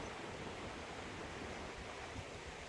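A river rushes by at Strathire on the Rob Roy Way, a constant broadband roar of flowing water, soft and steady with no other sounds.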